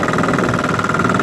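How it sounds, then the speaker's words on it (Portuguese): Small fishing boat outboard motor running at cruising speed, a loud steady engine drone with a fast, even pulsing throb and no voices. "É uma maravilha esse motor."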